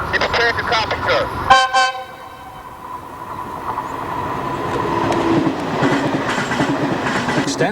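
An Amtrak high-speed train (ICE or X2000) on a North Philadelphia line sounds a loud horn blast, then rumbles past with rising rail clatter and wheel noise, close and building toward the end.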